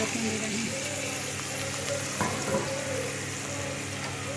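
Chicken and vegetables for masala macaroni sauté over medium heat in a pan with a constant, close sizzle and a few soft stirring scrapes, while a voice speaks faintly beneath.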